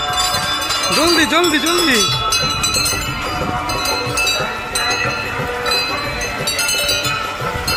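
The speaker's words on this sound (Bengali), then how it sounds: "মোমবাতি ধরে সবাই ঘন্টাটা বাজাচ্ছে" A temple bell is rung repeatedly by a crowd holding candles, clanging loudly and in quick succession while people shout and talk nearby.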